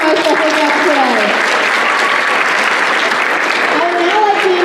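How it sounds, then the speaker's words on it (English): An audience at a school assembly applauds loudly and continuously, with dense clapping filling the whole stretch and faint voices calling over it. "Can I get a big round of applause for my special guest today?"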